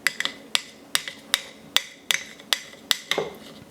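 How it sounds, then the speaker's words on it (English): A utensil scraping and tapping around the edges of a cup holding sourdough starter made with bleached flour and water, giving a series of about ten sharp, regular clinks, close and distinct, with no talk. "I'm just going to make sure I scrape this area well."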